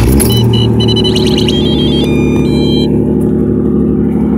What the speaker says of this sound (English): I'm gonna crank this up now. This is a cold start.